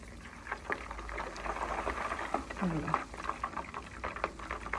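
Homemade desi ghee boiling in a pan, with water drops added as a test, gives a steady close crackling and bubbling sizzle throughout, with a voice speaking over it.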